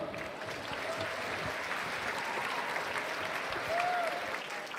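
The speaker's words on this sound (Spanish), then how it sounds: "Un fuerte aplauso" Audience at the Mangamore 2022 cosplay contest applauds a Zelda cosplayer from Breath of the Wild: steady, dense clapping from a large crowd throughout, moderately loud, with a faint whistle-like tone rising briefly near the end.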